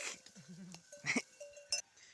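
Sheep on a farm bleating in short, wavering calls nearby, with a few clanks and knocks between the bleats in an otherwise quiet pasture.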